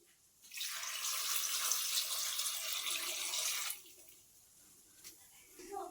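Water poured into a pot of jackfruit seeds for a curry, a steady close splashing gush lasting about three seconds, then stopping, with quiet room sound after.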